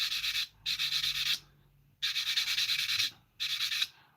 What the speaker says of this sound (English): Just give that a quick sand.